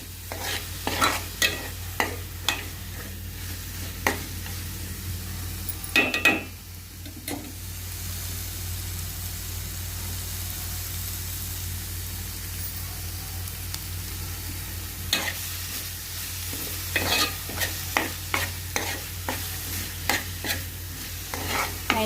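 Crushed ginger and garlic fry in a pan while a utensil stirs them, giving a steady close sizzle broken by repeated sharp scraping clicks, with a quieter stretch in the middle.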